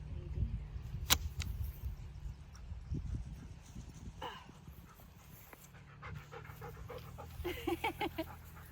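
A puppy pants rapidly and steadily up close on a cattle farm while fence work goes on, the quick breaths running throughout with a few brief knocks and faint scuffs in the background.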